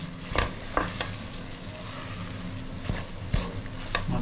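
Masala roasting dry in a pan while Agri-Koli style stuffed crabs are prepared, giving a steady close sizzle with a few sharp scrape and stir knocks scattered through.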